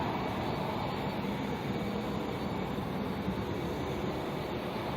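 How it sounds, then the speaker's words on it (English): Airliner jet engines spool up about two kilometres away at Auckland Airport, heard as a steady, broad distant roar that holds an even level throughout, with no voices. "it's pretty good that we're hearing spool ups from the planes that are like 2 kilometres away from us."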